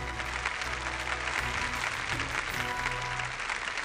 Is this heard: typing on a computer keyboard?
no